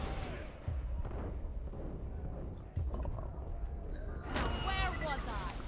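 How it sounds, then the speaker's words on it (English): A sword explosion effect from the video game Borderlands 2 bursts out as a couple of short, loud blasts amid game noise, with someone talking over it. "And this sword explosion is pretty bad."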